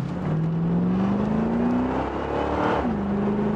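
A 1984 Corvette C4 V8 pulls hard from a launch, its loud engine note climbing steadily through a gear, dipping briefly at a shift and then rising again, close and continuous with no voices.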